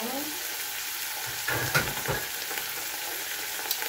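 Spicy chicken fries in a pan with a steady, close hiss, a couple of brief stirring knocks and shuffles breaking in midway.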